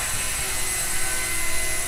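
A Blade mCPX RC micro helicopter flies nearby indoors, giving a steady, dense whirring drone of rotor and motor noise that holds constant throughout without breaks.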